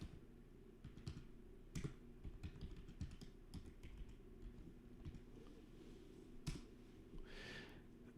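Quiet typing on a computer keyboard: scattered soft key taps in uneven runs with brief pauses, faint and close, against a low background hum.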